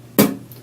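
A single beatboxed bass drum, a voice imitating a kick with one punchy low thump that decays quickly, close and alone.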